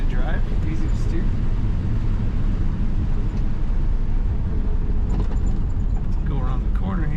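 A 1958 Chevrolet Corvette convertible's engine hums steadily while driving in third gear at low revs, a constant loud low rumble with road noise, while someone talks over it.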